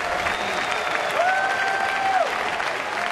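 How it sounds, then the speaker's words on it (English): A ballpark crowd at a Cardinals-at-Pirates baseball game applauds a player, Pedro Alvarez, with steady sustained clapping and cheering filling the stadium throughout, plus a brief whistle-like tone in the middle. "Still a fabulous night for Pedro Alvarez, and the crowd acknowledging that"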